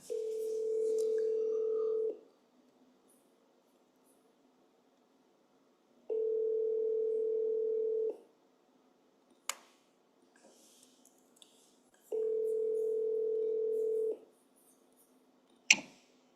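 Steady telephone dial tone sounds in three even two-second bursts separated by silence, with a few faint clicks and taps between them as a call is placed.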